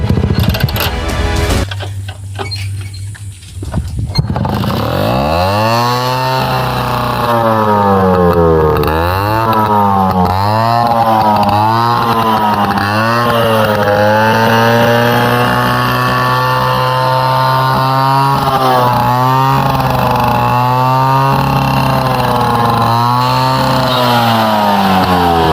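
A Bajaj M80 motorbike, its exhaust mesh removed, runs along a green rural road. Its loud, raspy engine note revs up and down in repeated surges over a continuous buzzing drone, close and alone.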